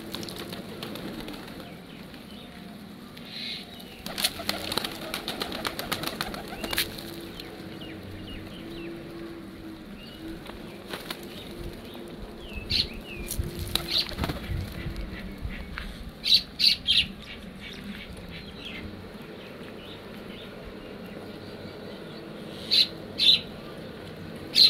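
Feather-footed pigeons at a pigeon farm in the morning make scattered squawks and coos against a low background hum, with bursts of wing flapping and sharp calls clustering in the second half.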